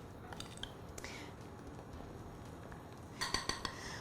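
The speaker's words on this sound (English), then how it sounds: "And you can whisk this so that it is nice and smooth." A whisk stirring a sauce in a very small bowl, faint scraping and light clinks running throughout, with a brief cluster of louder metallic taps near the end.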